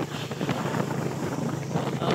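Strong wind buffets the microphone in a dense, continuous roar, loud and close throughout.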